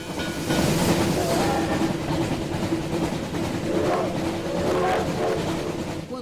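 A train rolls along a railway with a steady rumbling, clattering drone, loud and close throughout, with faint bursts of voices rising over it.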